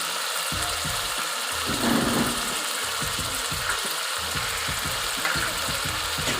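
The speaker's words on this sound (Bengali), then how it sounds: "এখন আমি আবার একটু কষিয়ে নিব।" Fish curry with vegetables and ground cumin and coriander sautéing in a pan, a soft steady sizzle and frying hiss with occasional stirring scrapes, quiet and close.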